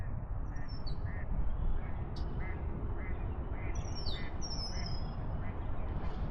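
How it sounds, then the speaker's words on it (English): A duck quacks in short, evenly spaced calls from somewhere distant across a pond, faint beneath a steady outdoor rumble. Thin, high bird chirps drift in and out above the quacking. "There's a duck quacking over there."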